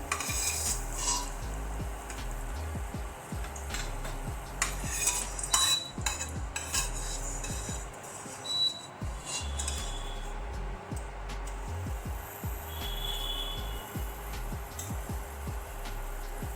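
Jaggery porridge made from broken wheat roasted in ghee is served from a pot onto a plate, with soft spoon scrapes and light metallic clinks, quiet and close.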